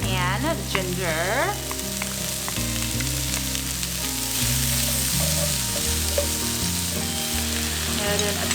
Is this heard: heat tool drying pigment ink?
no